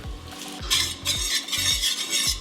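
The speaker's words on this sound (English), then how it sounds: "Put a little bit of this pasta water here." Pasta water hisses and sizzles in a hot pan in repeated bursts while making carbonara, with stirring scrapes and low clatter underneath.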